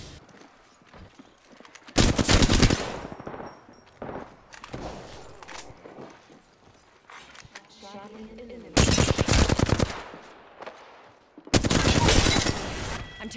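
Loud bursts of video game gunfire come in three separate volleys with quieter gaps between them, mixed with footsteps and a voice talking low underneath.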